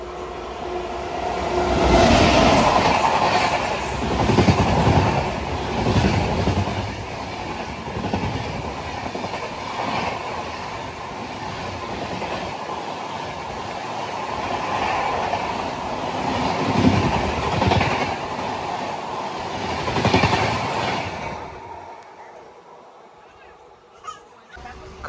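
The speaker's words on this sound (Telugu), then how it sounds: "క్రాసింగ్ తర్వాత మన ట్రైన్ అయితే స్టార్ట్ అయింది" Chennai to Sainagar Shirdi express train rolling on again after halting at a crossing, a steady loud rumble of wheels and carriages with rhythmic clatter and surges, easing off near the end.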